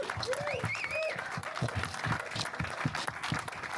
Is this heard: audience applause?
yes